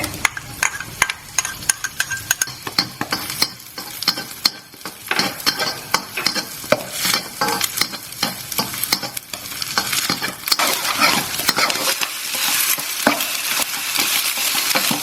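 Garlic stir-fries in a hot pan for Thai fried rice, a close, busy sizzle cut by rapid scraping and clattering strokes of a utensil against the metal, with no one speaking.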